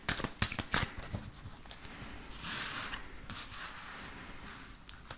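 Playing cards shuffled for a card reading give a few sharp, crisp riffles at the start, then a softer ongoing rustle and sliding of cards, close and fairly quiet.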